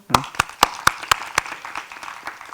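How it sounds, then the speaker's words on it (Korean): A small audience at a public city-development forum claps in a sparse, distinct burst: about six sharp, evenly spaced claps stand out near the start, then the clapping thins into quieter scattered hands that fade toward the end. "우리 박수 한번 치시죠"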